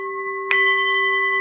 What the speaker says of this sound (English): ring the bell. Ring the bell.